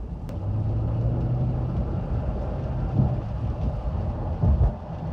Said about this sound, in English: so there's a whole lot of rain noise